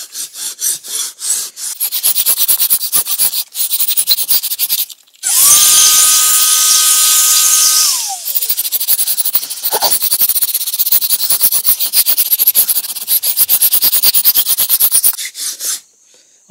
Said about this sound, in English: Take the brush and scrub it around a little bit.